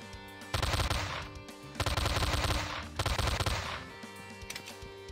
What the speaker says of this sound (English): it's so hard to shoot things here.